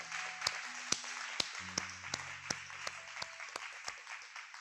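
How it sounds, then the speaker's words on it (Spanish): Church congregation giving God a round of applause, with faint, sparse claps spaced out over soft sustained tones in a quiet room. "¿Quieren darle un aplauso a Dios?"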